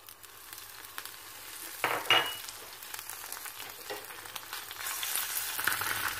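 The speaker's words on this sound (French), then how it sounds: "Je vais faire revenir mes morceaux de foie dans l'huile d'olive." Pieces of liver sizzling in hot olive oil in a pan, a steady frying hiss that surges when food is stirred or added, close and fairly loud, with no voices.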